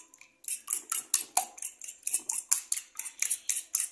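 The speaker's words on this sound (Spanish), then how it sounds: "Y lo vamos a batir. Batimos nuestros 5 huevitos." Five eggs with a pinch of salt are beaten briskly, making a steady run of quick, bright clinks of a utensil against the container, close and evenly paced, with no voices.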